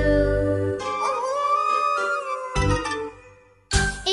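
A hound dog howls in a long drawn-out aroo, loud and near, rising and wavering, with a second burst of howling near the end and no talking.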